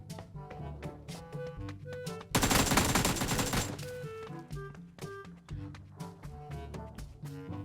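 A short, dense burst of gunfire erupts midway in the PUBG New State battle-royale shooter, loud and broadband over steady background game music that plays before and after.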